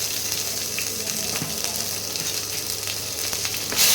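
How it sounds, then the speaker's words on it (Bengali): Ginger paste frying in a pan for a cauliflower masala, a steady close sizzle with faint stirring scrapes throughout, no talk. "আদা বাটাটা একটু ভেজে নিই"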